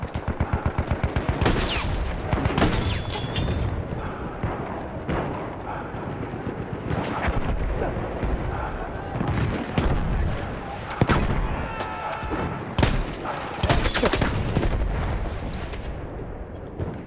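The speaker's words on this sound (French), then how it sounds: "Mitrailleuse ennemie, par là!" Rapid bursts of machine gun fire and scattered gunshots rattle through a video game battle, loud and continuous, with several volleys and brief louder blasts.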